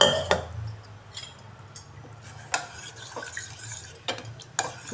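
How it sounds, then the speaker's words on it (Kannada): A spoon clinks and scrapes against a metal pot while stirring greens sambar, with irregular sharp taps and scraping strokes over a faint background, close and moderately loud, no talking. "ಚೆನ್ನಾಗಿ ತಿರುಗಿಸಿ."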